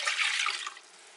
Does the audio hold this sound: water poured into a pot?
yes